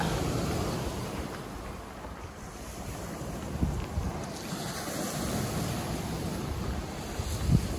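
Sea waves wash on the shore at Hayling Island near high tide, a low steady surf rumble mixed with heavy wind buffeting on the microphone.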